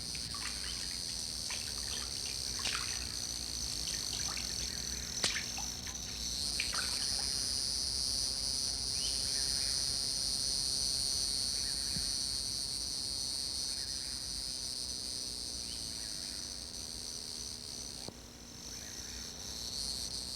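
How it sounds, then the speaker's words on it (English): Crickets and other insects sing in a late-summer Florida cypress swamp, a dense continuous high chirring that swells and fades, with occasional bird chirps and soft clicks mixed in. "By late summer, Florida is a buzzing world of insects."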